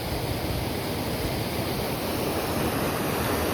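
Steady, loud roar of water rushing over a small dam fills the whole clip, a constant broadband torrent with no voices.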